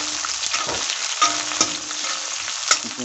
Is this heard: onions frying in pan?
yes